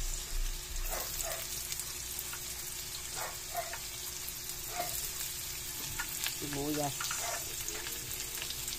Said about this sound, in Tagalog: Mix natin guys ang sibuyas.